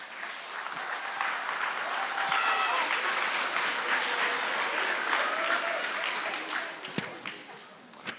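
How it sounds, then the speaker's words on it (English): Audience applause at an elementary school spring concert for the fifth grade band, a steady wash of clapping with scattered cheers and faint voices, tapering off near the end. "can we get one more round of applause for our fifth grade band?"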